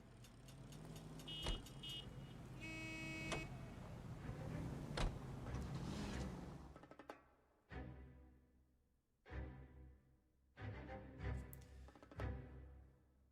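Car driving in the video game L.A. Noire: engine hum and road noise running steadily at first, then broken into several separate bursts and surges with short quiet gaps between them.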